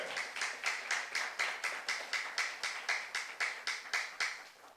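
A church youth congregation at a Saturday service claps in unison, about fifteen sharp, evenly spaced beats, moderately quiet with a slight room echo and no voices over it.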